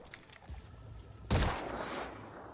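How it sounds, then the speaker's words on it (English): Weapons fire in the turn-based tactics game Phoenix Point, a loud sudden burst of gunfire after a quiet lead-in, then a sustained rumbling tail. "Let's go ahead and keep firing."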